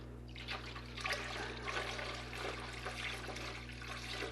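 Water poured from a container into a stock pot over chicken, a steady close splashing trickle lasting throughout over a constant low hum.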